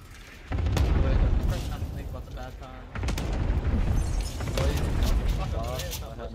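Cluster strike explosions in a Call of Duty Warzone Resurgence match on Rebirth Island boom in heavy, rumbling waves, two long blasts close together, while players talk over them.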